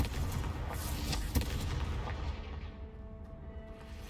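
A Confringo explosion spell cast in Hogwarts Legacy: a dense, rumbling blast with a sharp boom partway through, loud and close, then a long fading roar.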